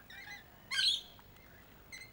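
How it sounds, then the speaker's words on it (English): Noisy miner birds calling near a perch at a bird sanctuary, three short sharp chirping bursts, the middle one loudest and harsh, with quiet gaps in between. "the noisy miners love that perch as well"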